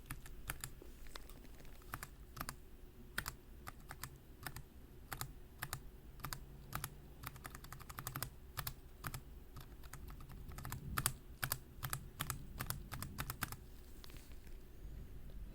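Zeal Zealios mechanical keyboard switches being typed on, with a steady run of crisp, close key clacks at an even, quick rhythm, alone and without talk.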